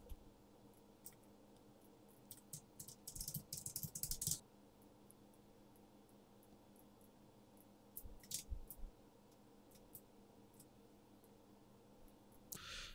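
Computer keyboard typing comes in two short bursts of quick, faint key clicks, separated by a long quiet pause, in a quiet room.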